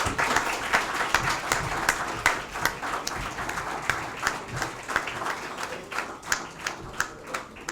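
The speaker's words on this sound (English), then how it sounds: "you have to give a big noise to this room with the clap" At a management conference, a room of attendees applauds, the clapping irregular and scattered with distinct individual claps rising in bursts over a softer crowd wash.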